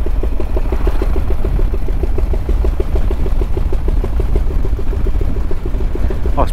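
A hand-built 5000cc V-twin motorcycle engine idles or putters along at low revs, a loud, close, rhythmic thumping pulse that stays steady throughout with a constant rumble underneath.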